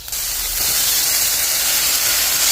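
Tomatoes hit a hot pan of frying onion and green chilli, setting off a loud, sudden steam hiss that stays strong and steady, close up with no talk.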